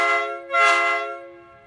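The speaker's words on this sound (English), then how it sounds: "here is the example of the four trumpet train set" A four-trumpet train air horn mounted on a 1999 Chevy Silverado blasts one loud, sustained chord, swelling midway and then fading out with echo.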